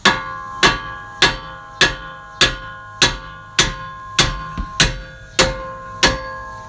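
Eleven sharp metallic hammer strikes on a 2012 Chevrolet Traverse front strut part ring out at a steady, even pace, each with a short bright ring, close and loud with no talking.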